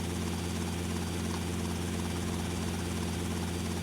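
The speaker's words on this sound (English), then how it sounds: "Get to the chopper." A helicopter drones steadily in a video game race, its rotor and engine giving a loud, unbroken low thrum throughout with no voices.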